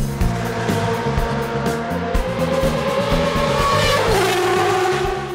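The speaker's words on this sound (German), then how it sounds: "Traumhafte Autos, wir haben es gehört, da bebt die ganze Boxenmauer" Classic racing cars from the 1970s era roar loudly past the pit wall at an historic motorsport event, engines revving and rumbling continuously up close with shifting pitch as they pass.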